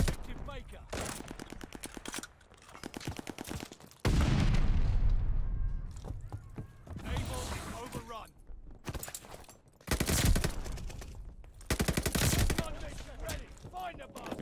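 Gunfire in Call of Duty Vanguard, loud bursts of automatic shots with heavy booming blasts and short pauses between volleys, a voice talking over parts of it.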